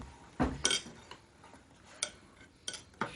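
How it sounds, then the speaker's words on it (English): A knife stirring a mixture in a dish, a few sharp close clinks and scrapes spaced irregularly over a quiet background, with no talk. "you can take one of these knives and slowly stir that in"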